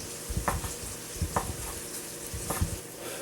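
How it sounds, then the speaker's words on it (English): Bacon sizzles steadily in a pan, with a soft broadband hiss and a few louder stirring scrapes at regular intervals, close and alone without talk. "While that bacon's going"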